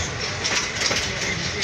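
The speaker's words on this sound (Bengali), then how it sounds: "দুটি ট্রেনের ক্রসিং হইলো বাদিয়াখালী রোড রেলওয়ে স্টেশন লোকালে" Dolanchapa Express passenger train running on rails near Badiakhali Road railway station, a loud continuous rumble with rhythmic clickety-clack of wheels over rail joints, heard from on board.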